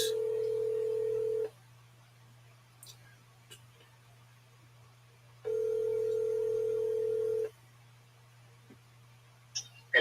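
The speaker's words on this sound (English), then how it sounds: "Let's go back and see can I get him on the phone." A telephone tone sounds twice in long steady bursts while a call is placed, with a low constant hum beneath, a quiet gap between the bursts and a few faint clicks near the end.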